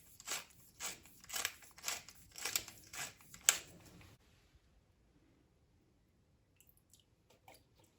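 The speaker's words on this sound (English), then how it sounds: "some freshly ground black pepper" A pepper mill grinds black pepper in a kitchen, about six crunchy rhythmic twists close up, then quiet with faint clinks afterward.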